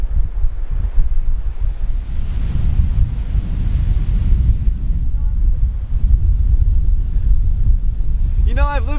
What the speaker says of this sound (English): This is the first time I've really seen the ocean.